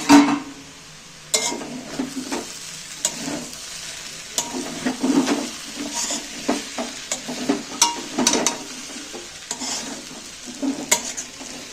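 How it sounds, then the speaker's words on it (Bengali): Sabudana frying in ghee in a pan is stirred, with irregular scrapes and clinks of the spoon over a soft sizzle, close and fairly loud with no voices. "এটা দেখি এবার একবার খুলে ঘেটে দেবো।"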